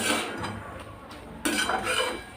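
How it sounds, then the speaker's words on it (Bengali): Peas and chickpeas are stir-fried with spices in a pot, a spoon scraping and clinking against the metal over a faint sizzle, close, with a louder scrape partway through. "মটর ছোলাগুলো দেওয়ার পরে মশলার সঙ্গে আবার ভালো করে কষিয়ে নেব"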